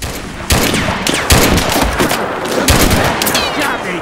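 Dense, continuous gunfire from the WWII-style game Mud and Blood, with rapid overlapping shots and bursts crackling nonstop through the whole stretch, loud and close with a faint voice mixed in.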